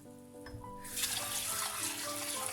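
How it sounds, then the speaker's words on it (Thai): Water runs from a tap into a bowl as sticky rice is rinsed and washed clean, a steady close splashing rush that starts after a quiet moment and continues alone. "และนำมาล้างน้ำนะคะ เพื่อน ซาวข้าวเหนียวให้สะอาดนั่นเองนะคะ"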